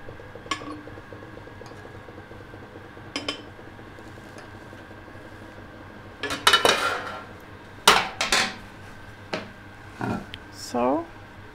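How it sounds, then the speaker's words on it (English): A glass lid scrapes and clinks as it is slid onto a laboratory desiccator and closed, giving a few sharp glassy knocks and a brief grinding slide over a low background hum. "So we put on the lid and slide it on and close the tap."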